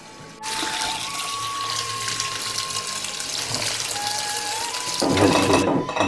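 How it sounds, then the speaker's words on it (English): Tap water runs over sprouts being rinsed, a steady close rush of flowing water that grows louder and more splashy near the end, without talk. "Rinse them with water to bring them to life again."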